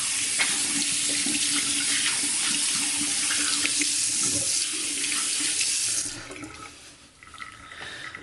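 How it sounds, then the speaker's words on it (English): Water from a tap pours steadily into a stainless steel shaving bowl as it is rinsed, a close, continuous splashing stream that cuts off near the end and leaves quieter trickling. "Go ahead, rinse that out."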